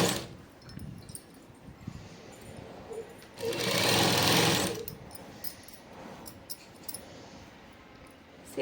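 A sewing machine stitches a Punjabi dress, with one loud burst of rapid mechanical whirring lasting just over a second amid quieter handling noises and faint clicks before and after.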